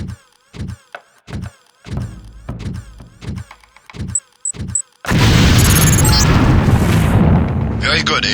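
A lamp mine detonates during demolitions training in the Deus Ex video game: a loud, sudden blast that holds as a dense, rumbling roar for several seconds, following a stretch of voice-like sound.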